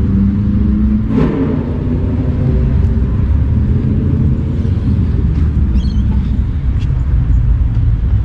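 Road traffic in Newcastle, New South Wales, Australia, gives a loud, steady rumble of passing cars and a bus nearby, with engines swelling and fading and no voices.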